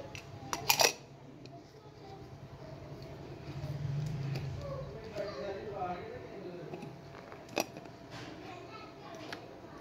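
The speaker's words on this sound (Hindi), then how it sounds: "अब मैं इसका लगाऊँगी कैप" A cap is fitted onto a juicer while making fresh mango juice, giving a sharp plastic clatter near the start and another brief click later, with someone talking in a quiet kitchen.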